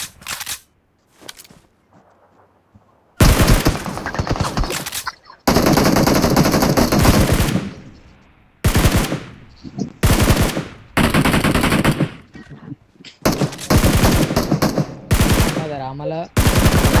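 Gunfire in a shooter video game, loud rapid automatic bursts and single shots crowding the clip, with brief gaps between volleys.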